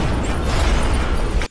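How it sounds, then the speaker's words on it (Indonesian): A house blowing up in a film, heard as a loud, sustained roaring blast of dense low rumble and crackle that holds for over a second and then cuts off abruptly, with no speech. "rumah itu pun meledak."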